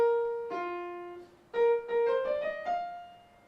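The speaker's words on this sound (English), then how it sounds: "directly up the major scale." Piano melody climbing straight up the major scale, a sustained opening note followed by a quick run of rising single notes, clear and close with no talking.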